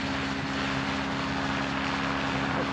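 A RotorWay kit helicopter lands, its engine and rotor a loud, continuous droning roar with a steady low hum, close by and without pause.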